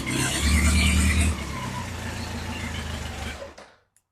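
A BMW K100 motorcycle engine runs loud and close with a steady mechanical rumble, strongest at first, then holds evenly before cutting off abruptly into silence.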